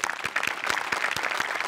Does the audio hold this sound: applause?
yes